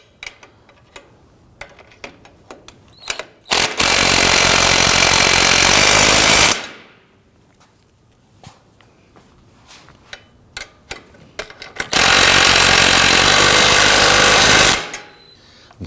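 A power socket tool drives the 17mm ball joint bolts on a Volvo XC60 front suspension, with two loud sustained rattling bursts of about three seconds each and small clicks and taps from handling in between.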